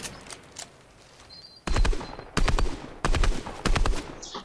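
Rapid bursts of automatic gunfire in Fortnite, four loud volleys separated by short gaps, following a quieter stretch with faint distant shots.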